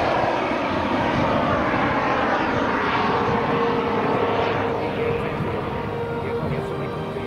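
A large model Sukhoi Su-30 jet powered by twin Behotec 220 gas turbines flies at an air show, giving a loud, continuous turbine roar and whine that stays steady as it passes.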